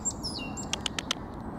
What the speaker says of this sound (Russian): Это, по-моему, синица так поет.